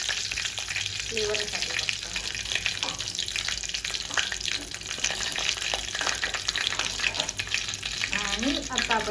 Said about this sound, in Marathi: जिरं, कढीपत्ता, लसूण पण मी टाकते